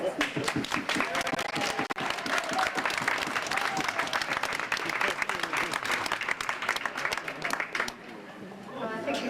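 A crowd claps and cheers loudly and continuously for a winning horse being brought home to the winner's enclosure, with dense applause and shouting that drops off sharply near the end.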